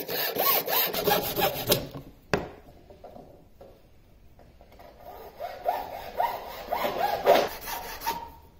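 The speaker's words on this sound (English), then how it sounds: "You can do this with an iron saw or any other saw as long as there's a small teeth" A small-toothed hand saw rasps through pipe in quick back-and-forth strokes, close up, pausing midway after a sharp knock before resuming.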